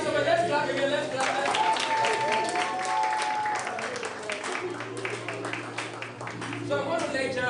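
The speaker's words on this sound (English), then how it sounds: "Let's clap again. Let's clap." Steady applause from an audience at a STEM explorers network outdooring event in a hall, with voices talking through the clapping and a sustained tone partway through.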